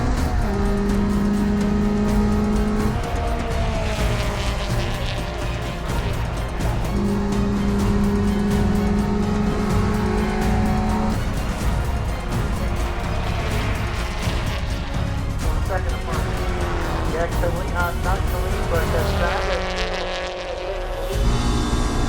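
Race cars launching at the green flag of an SRO America race, including a Tech Sport Subaru, loud engines revving through rising and shifting gears in a continuous roar as the field pulls away, with a pass close by near the end.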